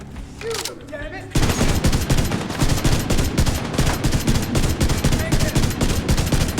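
Rapid automatic gunfire erupts in a Division 2 firefight after a brief quieter moment, then continues as loud, dense, sustained bursts of shots to the end.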